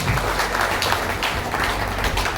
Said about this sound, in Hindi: एक बार उसके लिए बहुत जोरदार तालियां